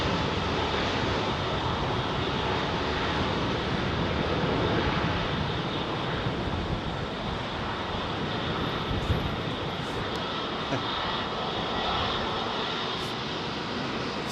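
An Airbus A380 takes off from Heathrow runway 27R, its four jet engines producing a sustained, broad, loud roar with a rumbling texture that persists for the whole stretch, heard alone.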